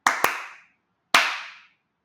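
Children clap a rhythm back in a classroom: two quick claps, a pause, then one more, each crisp and echoing briefly in the room.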